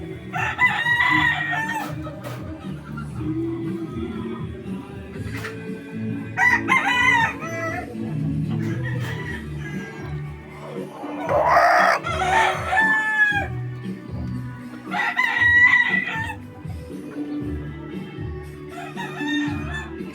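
An alimbuyugin gamecock rooster, about seven months old and hard-bodied, crows several times in bursts over a steady low background hum, the calls loud and close.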